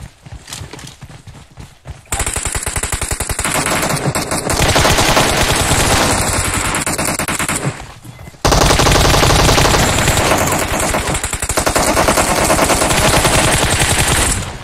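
Dense, loud automatic gunfire rattles in long sustained bursts in PUBG Mobile. A brief lull near the start is followed by nearly continuous firing with a short gap in the middle.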